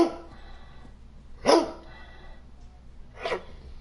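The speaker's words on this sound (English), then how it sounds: "that was the tongue lashing I get from the dog when I make loud sudden noises" A dog lets out two sharp, upset barks or yips a couple of seconds apart, close and fairly loud over a quiet indoor hum.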